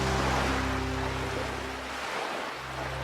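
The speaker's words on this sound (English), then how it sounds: "I could have just sat on that beach all afternoon and just listened to the ocean waves." Ocean waves wash onto a deserted beach in Panama, a steady broad rushing surf that swells and eases slightly, close and continuous with no voices.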